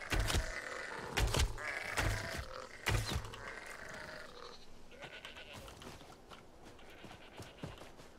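Sheep bleating in The Elder Scrolls Online, a few short close calls in the first three seconds over game ambience and faint footsteps, then quieter background sound.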